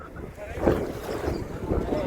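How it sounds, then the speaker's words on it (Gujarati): Strong wind buffets the microphone by the sea at Dwarka, where the Gomti river meets the ocean near the Sudama Setu bridge, making a steady, loud rushing roar with gusty swells throughout. "એક નંબર પવન અત્યારે આવે છે"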